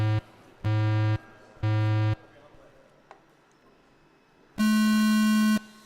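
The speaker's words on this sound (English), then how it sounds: "I will give you those beeps" Four loud electronic race-start beeps at a Tiny Whoop drone race: three identical lower tones in quick succession, a pause, then a longer, higher-pitched final beep.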